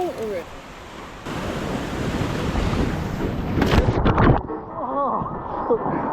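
Powerful ocean waves at Uluwatu, Bali, roar and crash in a loud, continuous wash of surf, swelling to a heavy break midway, with wind buffeting the microphone and a person talking over it.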